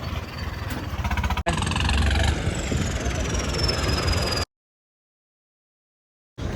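A Swaraj tractor and a Mahindra Thar drive together, a loud steady engine drone with rough low-end rumble that cuts out abruptly into silence before briefly returning.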